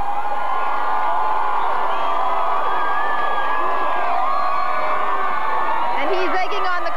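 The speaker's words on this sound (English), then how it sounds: "he's egging on the crowd as if they need to be urged to cheer" A crowd at the 1992 Toronto Blue Jays World Series victory parade cheers and shouts in a steady, dense roar throughout, with whoops and voices blending in, a brief burst of noise near the end.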